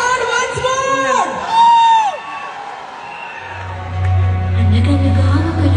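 A crowd at a Daaku Maharaaj film event in Dallas cheers and whoops loudly, with shrill shouts and yells rising over the din before a low steady rumble takes over.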